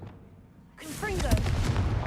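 Confringo fire spell blast in Hogwarts Legacy bursts in loud and broad after a quiet lead-in, followed by a sustained roaring rumble with whooshing, swooping tones layered over it.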